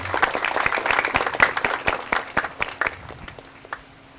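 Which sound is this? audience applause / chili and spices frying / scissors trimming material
audience applause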